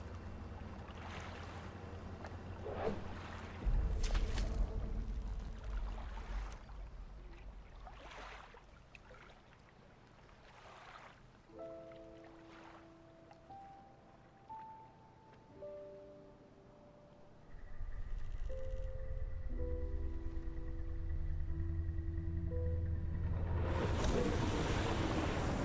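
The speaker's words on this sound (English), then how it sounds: "You throw it into the foaming water." Foaming sea water churns in the video game Dredge, a low, steady rush of waves and wind with some rumbling swells, overlaid by soft melodic game tones in the middle, and no speech.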